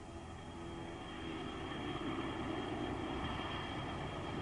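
A MiG-21 Fishbed jet with its Tumansky engine: a steady, low roaring whine with a sustained high tone, rising slightly and then holding, distant and faint, with no voices.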